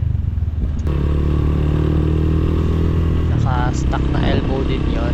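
A Motorstar GPR 250 motorcycle fitted with a Yoshimura R77 exhaust idles and rumbles loudly up close with a deep, steady engine drone, a sharp shift in tone partway through, and a voice talking briefly over it.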